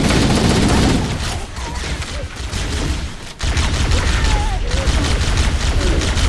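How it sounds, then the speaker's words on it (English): Covering gunfire in Halo: Combat Evolved rattles in loud, dense bursts of rapid shots, broken by a brief pause before the shooting resumes at full intensity. "I can just provide some covering fire"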